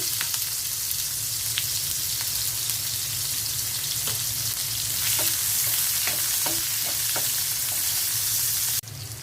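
Prawns fry in hot oil in a pan for a spiced prawn bhuna, producing a constant, loud crackling sizzle dotted with light stirring taps, with no voices.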